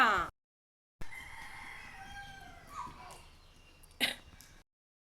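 A chicken at home gives a few sharp clucking calls and squawks after a brief silence, moderately close and alone, with a faint hiss behind it.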